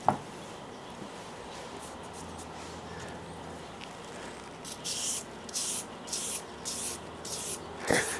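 New 2500 grit sandpaper rubbed over a scratched knife blade on an ALLHone, producing a soft, steady scratchy hiss that grows into louder rhythmic strokes toward the end, close and without talk.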